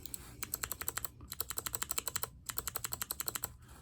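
Rapid, crisp clicky keystrokes from a buckling spring keyboard, an Apple AEK, typed in quick bursts with two short pauses, close up and alone.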